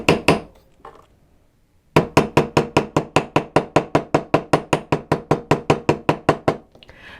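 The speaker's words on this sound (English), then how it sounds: "bring in your steel block and your hammer and work harden the teardrop shape on your block" After a brief quiet start, a hammer strikes wire on a steel block in a fast, even series of about twenty sharp, ringing blows, close and loud.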